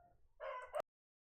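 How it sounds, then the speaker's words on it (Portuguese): A rooster crows once nearby, a loud strained cock-a-doodle-doo that rises and cuts off abruptly, preceded by faint low background murmur. "já cantou 5 vezes, galo canta no máximo 3"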